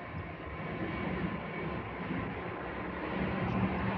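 Condenser fan motor running on an air conditioner unit whose compressor fails to start, a steady broadband whooshing drone with a faint hum, constant and close throughout.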